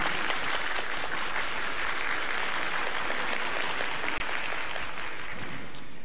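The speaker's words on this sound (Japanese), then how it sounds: "優勝されました乱心遠方の皆さんに大きな拍手をお願いします。" A large audience at an esports event applauds the winning team, producing a steady, dense wash of clapping that stays loud and continuous from start to finish.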